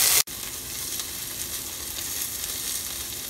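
Tindora (ivy gourd) pieces frying in a pan with salt while being stirred, a close, steady sizzle with faint scraping after a brief cut at the start, no talk.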